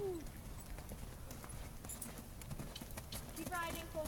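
A horse walks under a rider at a stable yard on Sawmill Brook Farm, its hooves clip-clopping in a steady rhythm against constant background noise, with voices faintly present.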